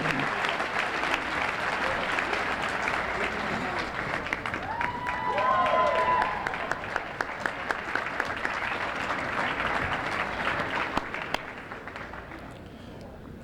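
Warm audience applause for a band at a state education summit welcome session, steady dense clapping from a large crowd that swells midway and then tapers off.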